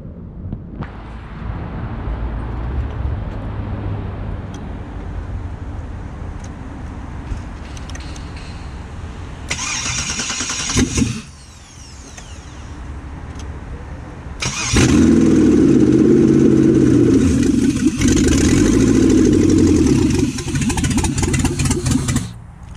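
A Lexus IS300 fitted with an LS1 V8 engine cranks and fires, its starter whirring before the engine catches and runs loud and close with a rough idle, then surges again after a brief dip.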